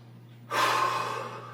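One sharp, heavy breath out after a kickboxing exercise, close and loud following a moment of quiet, then trailing off into softer breathing.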